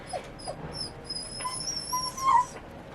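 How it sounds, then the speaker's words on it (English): A Shiba Inu whimpers indoors in a series of thin, high, wavering whines and small yips, fairly faint and spread across a few seconds with no talking over them. "I need to finish the video right now because my dog is crying"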